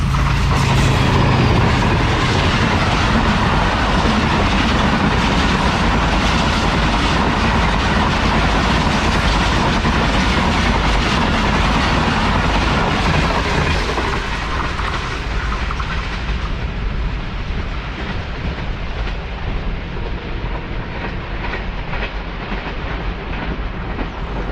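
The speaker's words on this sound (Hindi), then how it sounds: "अभी आपने जाफर एक्सप्रेस देखी 101 किलोमीटर स्पीड से गुजर गई" The Jaffar Express passenger train rushes past at 101 km/h near the abandoned Bhoe Asal railway station, a loud, steady roar of wheels and carriages that continues close by for the whole stretch before easing slightly toward the end.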